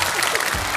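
A studio audience on a television variety show bursts into dense, steady clapping to welcome a music teacher, a short, full round of applause.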